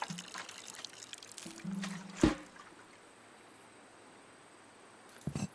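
Water pours onto a plant in the game Botany Manor, a soft, quiet trickle followed by a brief splash and a later small splash over faint background hiss.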